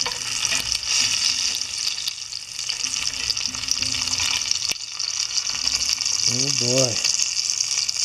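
Homemade jowl bacon, left fairly fatty, sizzles and crackles steadily in a pan over moderate heat, a constant frying hiss heard close up, with a man briefly exclaiming near the end.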